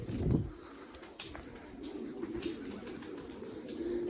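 Pigeons coo softly and repeatedly, alone and fairly close, while they are given grain and water in a loft with young birds.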